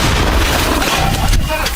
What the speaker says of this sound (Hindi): एंटी टैंक गन से यूक्रेनी ठिकानों पर हमला।